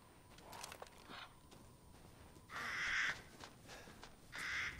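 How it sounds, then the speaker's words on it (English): Crow-like Samka creatures in the Resident Evil Village video game give several harsh caws, two louder calls standing out among fainter ones, with light footsteps in a quiet outdoor field. "Samkas are kind of like crows."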